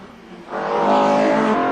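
Race cars pass close by on the circuit at the 1991 Bathurst 1000, a BMW M3 among them, rising to a loud, steady engine roar after half a second and holding it to the end, with no talk.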